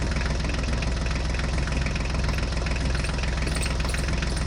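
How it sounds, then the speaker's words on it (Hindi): A tractor engine idles close by with a steady, loud, knocking low rumble that never lets up for several seconds, with no talk over it. "ये ड्राइवर तो अपनी ट्रैक्टर गाड़ी को लेकर चला गया"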